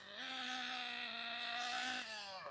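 A Losi 8ight RTR nitro RC buggy engine idles with a steady high buzzing drone, dipping slightly near the end, close and continuous with no talk.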